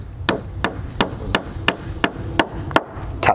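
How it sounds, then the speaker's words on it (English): Hammer taps a 7mm wall plug into a drilled hole in concrete or brick, eight sharp evenly spaced knocks close up in quick succession. "Grab your plug, push it into the hole, because that's a 7mm hole and 7mm plug."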